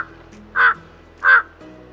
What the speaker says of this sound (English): Jungle crow is mainly seen in wooded areas, but sometimes also in the city.